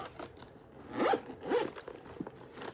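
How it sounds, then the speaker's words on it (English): A zipper closes on a pouch holding antibiotics from an emergency kit, two close, quick zipping strokes followed by faint rustling, with no talk. "Now I feel much more comfortable having antibiotics that I can zip up."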